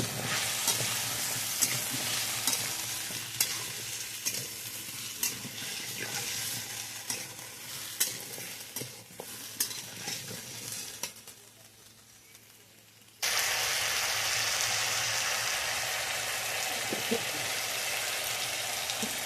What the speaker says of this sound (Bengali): মশলাটা কষানো হয়ে গেছে আলু আর কচুগুলো দিয়ে ভালো করে